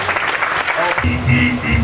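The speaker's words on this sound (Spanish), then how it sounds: "les damos un caluroso aplauso" Audience applause at a film festival awards ceremony in Guayaquil, loud and close, with a voice and music tones over it in the second half.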